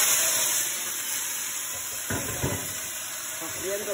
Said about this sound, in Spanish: Sofriendo el sazón.